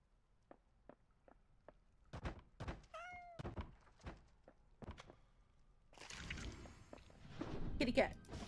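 A cat meows once in the goblin cleanup game Goblin Maintenance. The short, tonal mew sits among a series of dull thunks and clicks, and the sounds grow into a busier, noisier patch toward the end.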